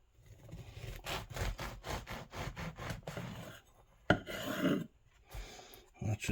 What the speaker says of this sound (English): Cut yourself a piece round about 3/4 of an inch,